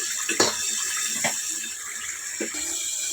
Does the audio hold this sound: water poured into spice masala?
yes